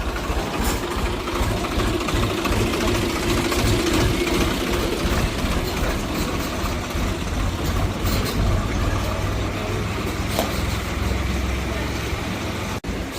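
A tractor engine runs steadily nearby, a continuous low rumbling chug that holds throughout.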